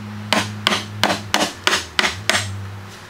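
Chisel tapped on wood with a hammer in a hand-tool woodworking shop, about seven sharp, close knocks spaced roughly half a second apart, each with a short woody ring.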